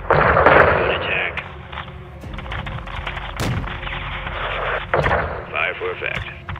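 Artillery strike explosions thunder in a Call of Duty: Modern Warfare II battle over a courtyard, loud booming blasts and crackling gunfire spread across the stretch, with radio chatter layered over the barrage.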